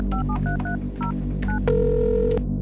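A telephone call is dialed: a quick run of keypad tone beeps in an uneven rhythm, then one longer steady tone, clear and close with no talking.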